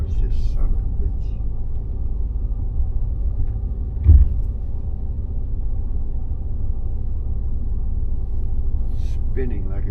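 A turbocharged Mercedes W126 engine runs as a steady low rumble that stays close and fairly even, with one short thump partway through and no clear rise in revs.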